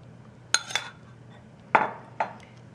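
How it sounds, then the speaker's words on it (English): A utensil stirs blueberry pancake batter in a bowl, giving four sharp clinks against the bowl's side, spaced irregularly over a quiet background. "And we'll just stir this until it's fairly well mixed."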